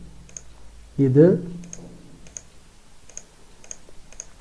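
Faint, separate computer mouse clicks repeat about every half second to second, with someone speaking briefly near the start.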